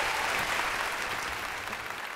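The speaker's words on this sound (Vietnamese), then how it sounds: "một tràng vỗ tay thật lớn dành cho Thái Sơn nè các bạn" Audience at a televised celebrity impersonation show breaks into dense, loud applause, a continuous wash of clapping that holds steady for a couple of seconds.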